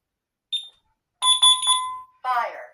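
An ADT Safewatch Pro alarm panel on a demonstration board sounds after a fire pull station is tripped, giving short bright electronic beeps and a sustained tone, then a harsher buzzing burst, loud and close.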